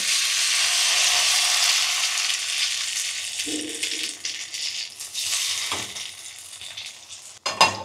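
Bread uttapam roasts in a pan and is stirred, giving a steady loud sizzle that fades and returns, with a few scraping stirs and a sharp clink near the end.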